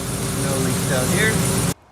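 A fifth-generation Camaro ZL1/SS V8 idling after an oil change, a steady close rumble with a faint voice over it, ending abruptly.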